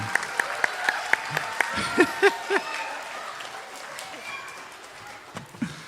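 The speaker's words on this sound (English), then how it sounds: "give her a round of applause" A school assembly at an elementary end-of-year event applauds Mrs. Huttinga, with scattered claps and a few sharp hits fading out under children's voices and squeals and some laughter.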